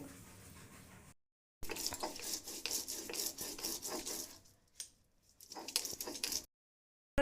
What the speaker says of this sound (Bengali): মান কচুগুলো সব গ্রেট করে নিয়েছি গ্রেট করে নিয়েছি এবার বেটে নেব